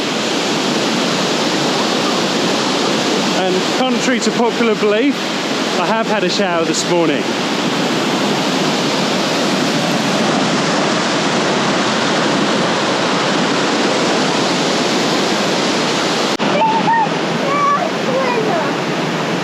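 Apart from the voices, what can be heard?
waterfall spray in the Otways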